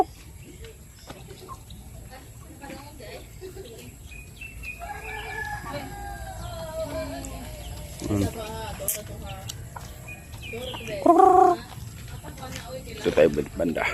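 Shamo and native chickens on a farm, with a rooster crowing loudly nearby near the end and scattered clucks and bird calls through steady outdoor background, while people talk throughout.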